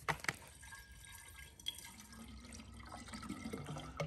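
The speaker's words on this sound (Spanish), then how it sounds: "echo el agua." Water poured into the base of a Steamulation Pro X 2 hookah, a fairly faint, steady splashing and trickling that runs for about four seconds, with a few sharper drips and clinks near the start.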